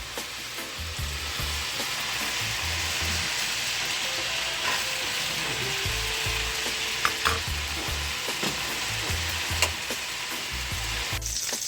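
An egg fries in butter and oil in a pan, giving a steady crackling sizzle throughout with intermittent low thumps and occasional scraping stirs.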